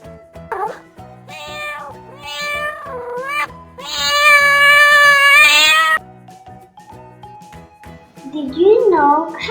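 A domestic cat meows several times in a row, loud and close, with drawn-out, rising and falling cries and a longer wailing call in the middle.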